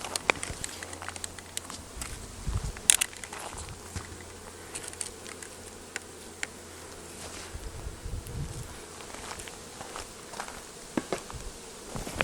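Honey bees in a backyard beehive in early fall give off a soft, steady buzzing hum with scattered faint rustles, quiet and continuous throughout.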